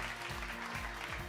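Brief burst of audience applause and cheering for a performer named Natalie at a SIX musical singalong in the West End, dense clapping from a crowd, fairly distant and alone.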